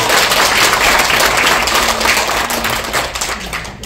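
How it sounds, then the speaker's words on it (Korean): A crowd at a political rally in Korea breaks into sustained applause, dense clapping from many hands filling the whole stretch at steady volume before easing slightly near the end. "박수 한번 치시죠"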